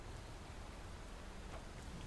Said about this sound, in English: The rain brings life as well as death, especially the latter on this night.